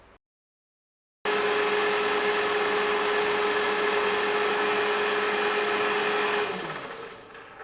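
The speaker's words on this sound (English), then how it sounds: "The drill press is very useful at this point" A steady, loud motor hum with a constant whine runs for several seconds after a brief silence, then winds down toward the end.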